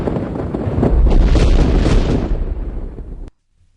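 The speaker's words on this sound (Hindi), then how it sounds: "उन्हें 21 तोपों की सलामी भी दी गई" A single deep artillery boom from a ceremonial 21-gun cannon salute rolls out loud and close, its rumble swelling and then fading over about three seconds before an abrupt cut.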